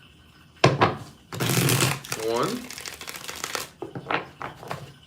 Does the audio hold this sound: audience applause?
no